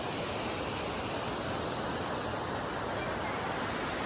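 Waterfall at Grassi Lake, a dense, steady rush of falling water, loud and close, filling the scene without a break.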